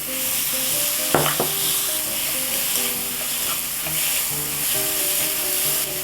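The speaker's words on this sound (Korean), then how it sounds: "양념한 도라지 넣고 얼른 볶아주세요." Seasoned bellflower root (doraji) being stir-fried in a hot pan for Korean namul, a continuous close sizzle with clinks of a utensil against the pan and faint tonal ringing in the background.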